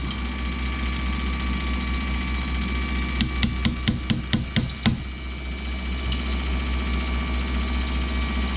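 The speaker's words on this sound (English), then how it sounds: "slight tap with the hammer and she's away" A run of about eight light, sharp metallic taps from a hammer striking metal comes in quick succession over a steady mechanical hum, then the hum continues alone.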